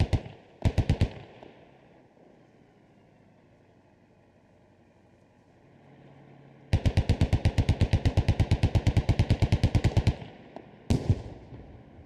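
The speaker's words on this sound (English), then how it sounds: "Some good shots coming out from that first Humvee" Gunfire from a Humvee in the military video game Squad: a few isolated sharp bursts, then a long rapid machine-gun string of evenly spaced loud shots, with quiet engine rumble in the gaps.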